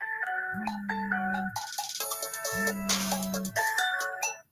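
A phone ringtone plays loudly, a repeating electronic melody with long sustained tones, while noisy background chatter and movement continue around it.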